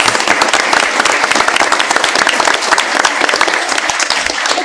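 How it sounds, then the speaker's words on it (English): A school board meeting audience applauds the Ocean County Mathlete recipients: dense, steady clapping from many hands that holds at an even level for the whole stretch, with no talk over it. "So round of applause again to our Ocean County Mathlete recipients."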